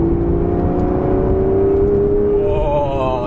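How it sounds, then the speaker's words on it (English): An Aston Martin Vanquish engine revs up as the car accelerates in sport mode, a loud, close exhaust note rising steadily in pitch with a deep rumbling undertone. "oh, you get the exhaust note, and this car comes to life"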